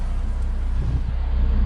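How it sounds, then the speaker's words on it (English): Audi RS3 engine turning over and idling right after a fuel pump install, a steady low rumble filling the short clip with no one talking. "Vehicle starts, system primed as I open the door."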